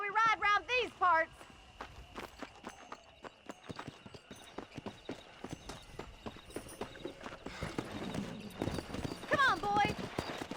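Horse hooves clip-clop steadily in Red Dead Redemption as riders set off, a continuous rhythmic patter with a whinny at the start, under game music and voices talking.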